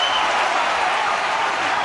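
Rugby crowd at Ravenhill applauding and cheering Ulster during a Pro12 match against Benetton Treviso, a steady, dense wash of clapping and crowd noise with no break.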